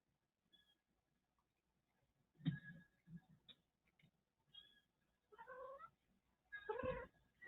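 A pet cat meows and caterwauls in a quiet room, several separate calls with pauses between them, the loudest ones near the end.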